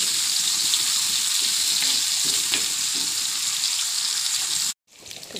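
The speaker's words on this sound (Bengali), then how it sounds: "দেখো মাছগুলো সুন্দর করে লাল লাল করে ভেজে নিয়েছি" Several fish frying together in a pan of oil, a loud, steady sizzling hiss that holds for most of the time and then cuts off abruptly before a quieter return.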